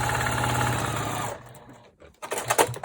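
A sewing machine stitches a quarter-inch seam joining patches of a scrappy 16-patch quilt block, running steadily for over a second before stopping, followed by a few short clicks and bursts of handling.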